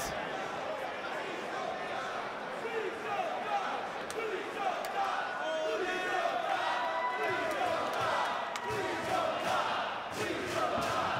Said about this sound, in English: You can hear the stirring in the crowd,